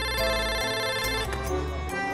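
A landline telephone ring sound effect, a steady bright electronic ringing that stays loud for a couple of seconds.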